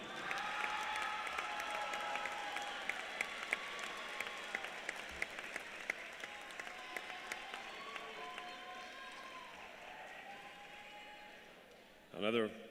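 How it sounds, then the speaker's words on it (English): A large volleyball tournament crowd applauds MIAA special award recipients at a college semifinal, steady dense clapping throughout with scattered cheers, a louder burst of clapping near the end. "Another big round of applause for your MIAA Special Award recipients"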